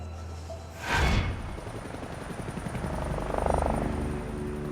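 A search helicopter flies over a forest in the Colorado Rockies, its rotor thumping in a fast, steady beat with a loud whoosh early on and a faint distant whine.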